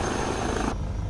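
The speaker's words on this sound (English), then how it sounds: "look at how beautiful this helicopter is as we come into land" HPG H160 helicopter coming in to land in Microsoft Flight Simulator, a loud steady rotor and turbine roar that cuts off abruptly near the end.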